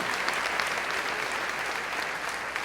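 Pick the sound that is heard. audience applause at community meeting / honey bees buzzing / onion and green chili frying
audience applause at community meeting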